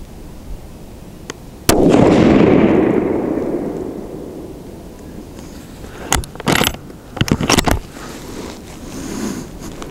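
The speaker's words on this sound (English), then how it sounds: "So this next group, we're gonna shoot for the bottom left target" A TC Compass rifle firing a Hornady 150 grain soft point load gives one loud, sharp shot outdoors with a long rolling echo. Several fainter handling clicks follow and no one speaks.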